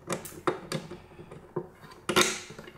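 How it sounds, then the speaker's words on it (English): Bottom screws being driven into a Hamann Automat S mechanical calculator produce irregular clicks, small metallic taps and brief rattling scrapes close up, with quiet gaps between. "time to put in the bottom screws"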